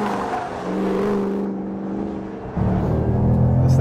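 A 2013 Ford Shelby GT500 accelerates hard out of a corner, its engine note climbing steadily, then a sharp louder surge as it pulls away, close and dominant.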